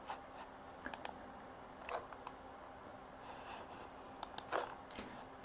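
Quiet, close keystrokes tap irregularly on a computer keyboard, with small clusters of clicks over a faint background hum.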